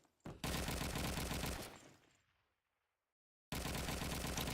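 Machine gun fire in a multiplayer shooter game: a sustained loud burst that fades out, a moment of silence, then another loud burst cutting in at the end.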